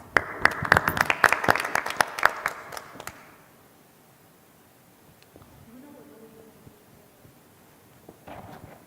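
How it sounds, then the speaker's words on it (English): An audience at a school board meeting claps and applauds for about three seconds, then stops abruptly, leaving a quiet room with faint movement and murmuring. "Let's give them all a round of applause."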